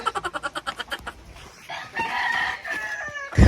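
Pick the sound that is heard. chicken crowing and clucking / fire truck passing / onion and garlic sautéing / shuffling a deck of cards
chicken crowing and clucking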